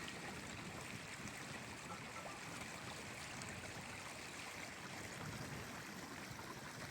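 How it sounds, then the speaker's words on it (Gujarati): Water flows out of a farm field in the UK, a steady, soft, continuous rushing wash heard alone at low level. "અને આ ખેતરમાંથી પાણી હેલું જાય છે બહાર નીકળી."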